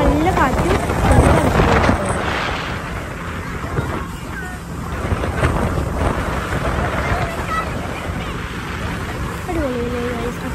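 Wind buffets the microphone in a steady broadband rush on a boat trip along the coast near Hahei Beach and Cathedral Cove, with faint voices underneath.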